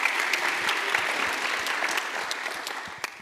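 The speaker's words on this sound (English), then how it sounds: "Round of applause for Martine." An audience at a live intergenerational dialogue on climate justice claps in a dense, continuous wash that holds steady and tapers slightly near the end.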